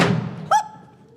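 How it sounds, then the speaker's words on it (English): Cannon fire sounds as a radio drama effect, a single dull thump that booms briefly and then fades away, heard after a moment of talk. "It sounded like cannon."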